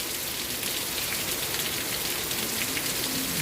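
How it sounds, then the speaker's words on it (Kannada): Heavy rain falls steadily outside, a dense continuous hiss of drops with no pauses, fairly loud and even throughout with no voices. "ಹೊರಗಡೆ ಜೋರು ಮಳೆ ಬರ್ತಾ ಉಂಟು"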